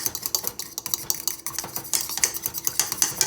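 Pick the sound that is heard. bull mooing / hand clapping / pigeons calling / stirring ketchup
stirring ketchup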